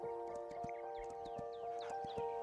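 Horse hooves clip-clop at a steady trotting rhythm in the video game Kingdom: Two Crowns, with some animal bleats and soft chiming game sounds layered over a constant musical drone.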